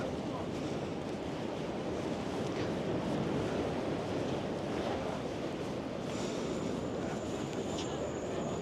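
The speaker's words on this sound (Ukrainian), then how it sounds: "Море хвилюється." Winter sea at Langeron beach in Odesa, with rough waves breaking in a steady, continuous wash of surf, loud and close, with wind buffeting the microphone throughout.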